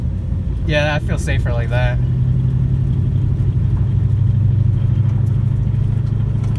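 A cammed 2001 Mustang GT rolling slowly through snow in third gear makes a steady, loping engine drone with a low rumble, close and continuous, while someone speaks briefly near the start.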